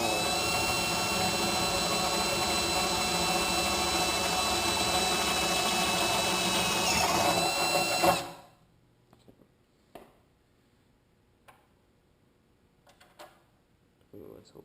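A high, steady whine of a drill grinding into metal runs for several seconds, then stops abruptly, followed by quiet clicks and handling noises.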